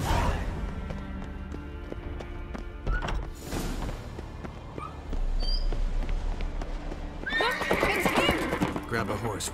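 A horse in The Witcher 3 gives sharp whinnies and snorts amid clip-clopping hooves and thuds, with bursts of louder neighing near the end and game voices talking in between.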